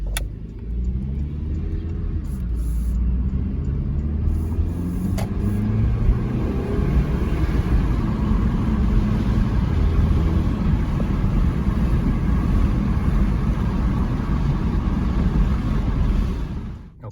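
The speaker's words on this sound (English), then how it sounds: "here we are, factory air intake. Windows are open in normal mode." A Porsche Macan with its factory air intake, driven in normal mode with the windows open, gives a steady, fairly loud engine rumble with road and tyre noise that holds at an even level throughout.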